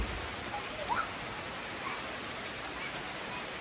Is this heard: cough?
no